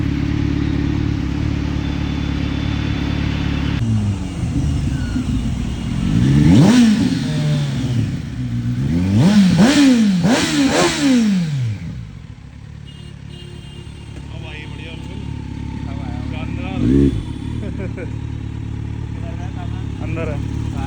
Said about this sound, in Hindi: अभी खाली एग्जॉस्ट ही लगवाया है, जो कि बहुत ही प्यारा एग्जॉस्ट लगा है इसमें